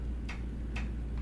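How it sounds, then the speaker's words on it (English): Water pipes tick when an upstairs toilet is flushed: three sharp, fairly loud ticks spaced about half a second apart over a low steady rumble. "Apologies for that ticking noise."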